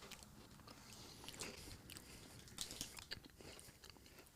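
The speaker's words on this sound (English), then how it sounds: "Don't make eating noises into the mic." Close crunchy biting and chewing of a Twix chocolate bar near the microphone, irregular crisp crunches over several seconds with no talk.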